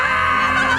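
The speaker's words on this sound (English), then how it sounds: "Also, what was that scream?" A shrill, sustained scream from a Teletubby-themed horror piece, a strained voice held at high pitch for under a second, loud and close with no talk over it.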